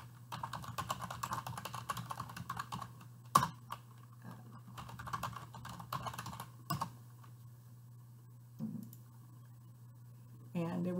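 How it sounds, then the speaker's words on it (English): Close computer keyboard typing comes in quick bursts of clicks over a steady low hum, with a few sharper taps and pauses between runs. "I can type in my topic here."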